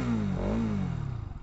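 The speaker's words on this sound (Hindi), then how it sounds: "तो ऐसा कुछ बाइक का एग्जॉस्ट है" A Bajaj Pulsar NS200 BS7 E20-edition 200cc motorcycle exhaust gives a quick rev that rises and falls, then settles back into a lumpy, pulsing idle, heard close and alone.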